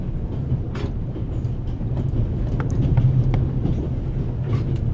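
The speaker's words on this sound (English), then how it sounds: "The noise on this train is driving me crazy." Steady rumbling clatter of a train carriage on the Orient Express in the adventure game The Raven, a continuous low drone with faint rhythmic clicks running throughout at moderate loudness, no speech.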